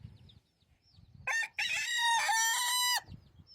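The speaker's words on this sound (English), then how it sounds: "Did you know they close their ears when they crow?" A rooster crows loudly and close by, one long crow broken by a brief pause, with faint clucking and rustling before and after.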